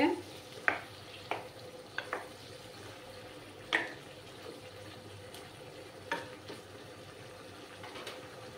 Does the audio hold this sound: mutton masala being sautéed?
yes